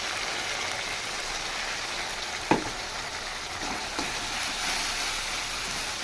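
Onion frying in a pan with spices and tomato added for mutton curry gives a steady, moderate sizzle, with a sharp clatter near the middle and a few faint stirring scrapes.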